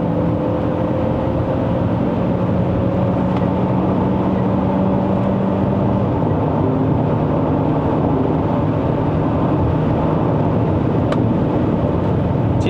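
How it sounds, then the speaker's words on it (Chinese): A 2024 Chery Tiggo 7 Pro SUV accelerates in third gear in manual mode, its engine droning steadily from inside the cabin with rising tonal revs over constant road noise. "给3档再踩，它的转速不会拉到很高哦，大概5000转就跟你升档了"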